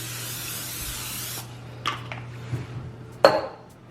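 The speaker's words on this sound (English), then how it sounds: "And we need to spray it with Pam." A steady hiss of Pam cooking spray coating baking paper for no-knead bread, lasting about a second and a half, then a few light rustles and a sharp clack as the can is set down.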